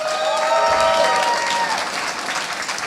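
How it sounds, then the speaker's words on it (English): Audience applause as a tech startup team walks onto the stage at a pitch event, a steady wash of clapping throughout with a few whistle-like tones near the start. "I'm going to ask you to give them a round of applause"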